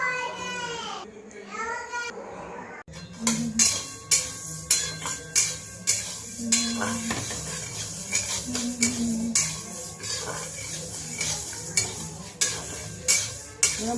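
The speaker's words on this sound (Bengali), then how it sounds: "মুগ ডালটাকে একটু হালকা করে ভেজে নিলাম" Mung dal being lightly roasted in a home kitchen pan, with repeated stirring scrapes and clinks of a utensil at a steady rhythm, faint sizzle underneath, and a voice and talk early on.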